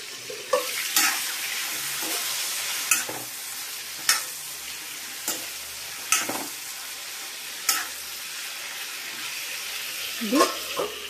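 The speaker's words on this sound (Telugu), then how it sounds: "ఇది వేగనివ్వాలి." Brinjal curry with fenugreek frying in oil in a pan, a steady sizzle and hiss broken by periodic sharp scrapes and knocks of a spoon stirring, close and fairly loud.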